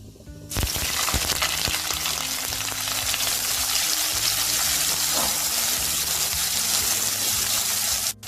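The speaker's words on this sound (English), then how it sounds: "Fry the onions until they are nicely browned." Finely sliced onions fry in hot oil with kalonji for a Bengali aloo posto, giving a steady, close, dense sizzle that starts abruptly and holds loud and even throughout, with no talking.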